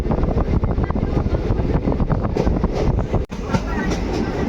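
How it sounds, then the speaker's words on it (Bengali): The Balurghat Express runs near Dakshineswar station in Kolkata, a loud, close, continuous rumble of wheels and carriages with a steady rattling rhythm. "ট্রেন চলছে, আর আমরা পৌঁছে গেছি দক্ষিণেশ্বর স্টেশন।"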